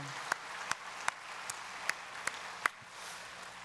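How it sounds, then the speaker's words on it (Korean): A handful of sparse, separate hand claps from a church congregation, about seven sharp claps spaced unevenly over a few seconds, faint and thin against a quiet room. "서로 한번 격려의 박수를 좀 보내주시면 좋겠어요"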